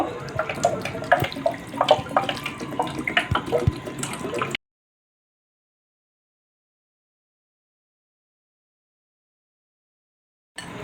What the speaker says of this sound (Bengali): এর মধ্যে আমি জল দিয়ে দেব